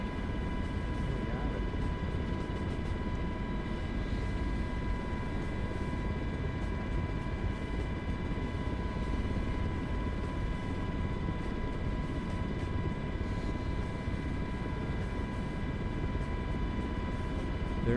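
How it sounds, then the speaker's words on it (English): An MH-60 helicopter in Microsoft Flight Simulator taxis to park at sunrise on the Giza Plateau, its engines and rotor making a steady, even drone with a constant tonal whine that holds the whole time. "We're going to get the aircraft parked up, the MH-60."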